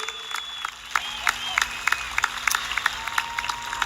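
A graduation audience at a high school celebration claps in scattered, uneven bursts, moderately near, with crowd murmur and some talk underneath.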